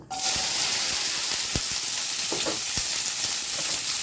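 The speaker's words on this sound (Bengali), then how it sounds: "সরষের তেল দিয়ে ভেন্ডিটা ভাজবো" Okra frying in mustard oil with black cumin gives a steady, close sizzle, with a few scattered clicks and scrapes from stirring.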